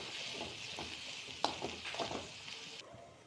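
Okra frying in a pan is stirred, a spatula scraping and tapping in several quick strokes over a quiet, steady sizzle that cuts off near the end.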